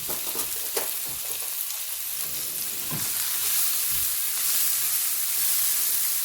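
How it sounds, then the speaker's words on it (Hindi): Red onion lightly frying in a pan for shakshuka, a steady close sizzle and hiss with occasional stirring scrapes, no voices. "हल्का हल्का हमने इसको फ्राई करना है"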